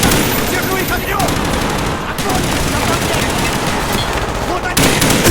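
Dense, loud automatic gunfire from Call of Duty Black Ops rattles in rapid bursts with brief pauses, mixed with combat shouting from game characters.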